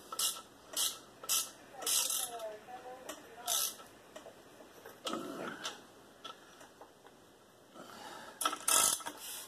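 Ratchet snugging down a connecting rod cap on a Chevy 350 engine during piston installation: repeated short bursts of clicking in quick rounds, fairly close, with pauses between pulls and no talk over them.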